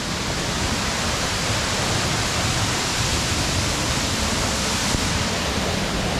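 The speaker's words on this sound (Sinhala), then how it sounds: "වතුර සද්දේ වැඩි මේ දවස්වල. වතුර සෑහෙන වැඩි. මේ තියෙන්නේ නකල්ස් සැල්ල." Knuckles waterfall in Sri Lanka, swollen with heavy flow, pours with a steady, loud, dense rush of water that never lets up, with no voices.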